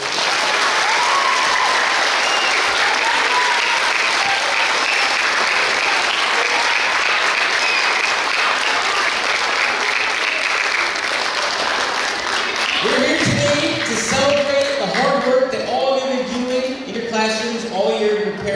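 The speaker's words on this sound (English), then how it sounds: "So give yourselves a round of applause." A school pep rally crowd of students bursts into sustained, loud applause for a state test assembly, dense clapping filling the room before fading as a voice begins speaking over the last of it.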